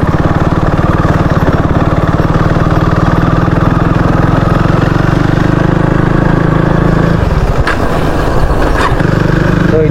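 A motorcycle engine runs steadily while riding onto a main road after muddy tracks, a loud close continuous mid-pitched drone that dips briefly near the end, with no talk.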